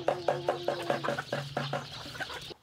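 Hens clucking on a farm on Udo Island, Jeju: a flock gives repeated, rhythmic, close-up clucks in quick bursts with no talking.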